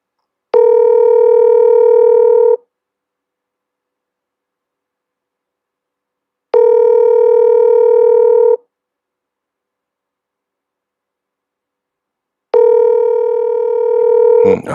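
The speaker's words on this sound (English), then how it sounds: "let me test my phone line" A telephone line tone sounds during a phone line test, sounding as three steady two-second bursts separated by about four seconds of silence each, loud and clean with nothing else under it.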